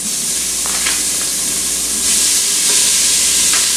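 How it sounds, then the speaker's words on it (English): Food sizzles and hisses as it sautés in an Instant Pot while lasagna is made, with a steady frying crackle, occasional scraping stirs from a spatula, and the sizzle swelling louder partway through. "So right now we are sauteing."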